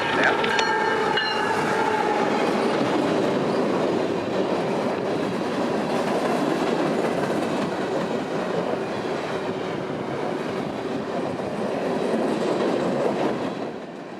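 A CSX freight train led by a GE locomotive rolls past at night in Central Florida, a long continuous roar of wheels and cars with a brief tonal horn-like note at the start.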